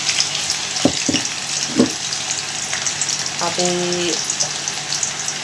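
Two medium chopped onions sizzle in hot oil in a small pot, a loud, close, steady crackle broken by a few clinks of a utensil and a brief tonal squeak, while a voice speaks briefly.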